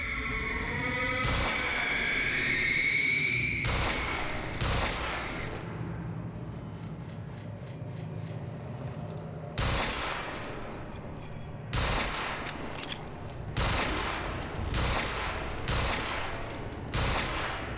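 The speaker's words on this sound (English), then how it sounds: "let's see if we can shoot his head" Gunfire aimed at a beast in Quantum Break, delivered as repeated loud shots and short volleys spread unevenly through a busy, noisy fight.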